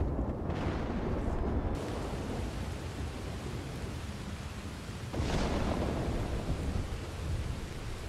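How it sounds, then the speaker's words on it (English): Thunder rolling through a stormy sky in the video game Red Dead Redemption 2, a loud continuous rumble with a fresh crack and swell around the midpoint, heard alone without talk. "Some lightning with the butcher there."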